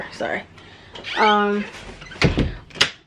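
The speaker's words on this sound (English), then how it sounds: "I gotta close the bathroom door." A bathroom door is pulled shut with a drawn-out hinge squeak and a few knocks and thuds, while a person speaks briefly nearby.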